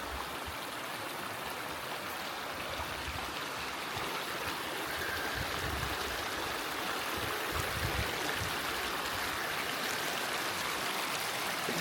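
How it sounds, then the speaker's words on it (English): A small creek flows steadily, with continuous babbling and rushing water close by, and no voices throughout. "That same little creek that runs through camp."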